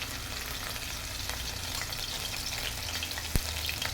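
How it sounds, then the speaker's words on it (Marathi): Garlic and ginger paste frying in hot oil for pasta, giving a steady close hiss of sizzle throughout, with one sharp knock near the end. "तेल आता गरम झाले आहे याच्यात लसूण आणि अद्रकची पेस्ट टाकते"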